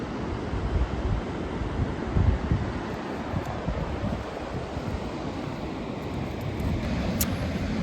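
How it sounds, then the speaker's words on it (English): Big ocean waves crash and churn at the base of tall cliffs, a continuous heavy roar of surf mixed with buffeting wind noise, with no voices. "It's a long way down, so those waves must be huge."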